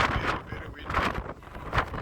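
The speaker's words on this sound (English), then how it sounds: "Oh, it's windy." Gusty wind roars across the open top deck of a cruise ship at sea, buffeting the microphone in loud surges about once a second.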